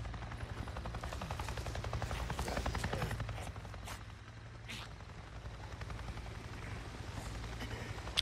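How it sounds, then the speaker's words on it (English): A helicopter in the video game Days Gone flies overhead with a low, throbbing rotor chop that stays fairly faint and steady throughout, rising and easing slightly in volume. "I just saw a goddamn chopper!"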